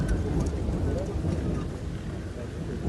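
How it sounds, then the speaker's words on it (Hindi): Heavy rain pours steadily during a nature walk at Renuka Ji near Nahan in Sirmaur, a dense, loud wash of drops with low rumbling that suggests thunder, continuous throughout without talk. "बारिश तेज हो गई है।"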